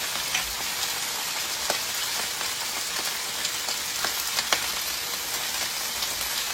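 Cabbage fries in a pan with corned beef, giving a steady close sizzle with scattered small pops and crackles, alone without speech.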